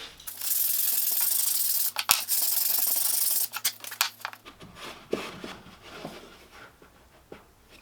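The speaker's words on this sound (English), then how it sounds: "Slight bit of sanding will actually make it slide better." Brisk rasping strokes of sandpaper rub against a wooden sliding dovetail joint for a few seconds, then give way to softer scattered scuffs and taps.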